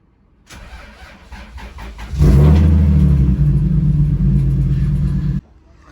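A Lexus IS300 engine cranks over briefly after maintenance, then catches and settles into a loud, rough rumbling idle that holds for several seconds before abruptly cutting off, heard close with no talking.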